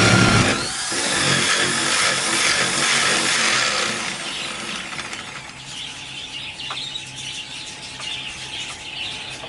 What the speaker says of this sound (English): So I'm going to carry on drilling the hole.